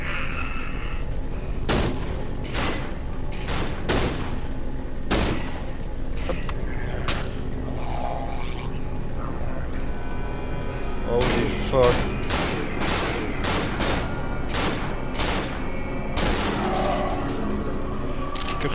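Rapid gunfire in the co-op horror game Cry of Fear, with repeated sharp shots in irregular bursts throughout, while players talk over the action.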